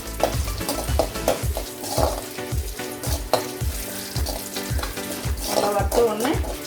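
Chana dal, urad dal, curry leaves and dried chilies frying in hot oil for a prawn kuzhambu, a loud continuous sizzle with rhythmic scraping strokes of a spoon stirring in the pan.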